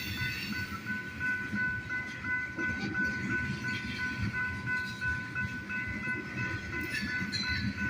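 A train rolls through Garretson, South Dakota, a steady loud rumble of rail cars lasting throughout, with a sustained horn tone riding above the clatter.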